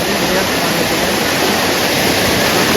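Loud, constant rushing of flood water after heavy rain, heard from a bridge, roaring steadily with no pause, a dense broadband wash like a strong current pouring past.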